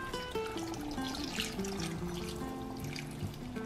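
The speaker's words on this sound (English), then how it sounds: "so I'm going to add water" Water trickles and pours into a cooking pot holding chicken stew, a soft steady stream heard faintly under background music.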